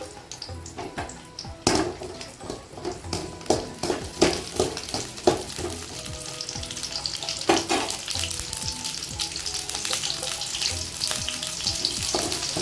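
Onion and garlic frying in a pan for a minnal keerai chutney, a steady close sizzle with stirring scrapes and clatter throughout, no voices.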